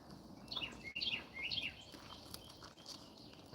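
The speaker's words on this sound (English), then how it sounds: "There's bird chirping." Soft bird chirps, a few quick high tweets in short bursts, faint over quiet outdoor background.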